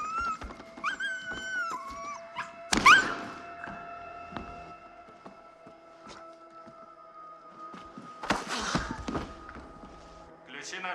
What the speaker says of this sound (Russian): Заткни ты эту долбаную собаку.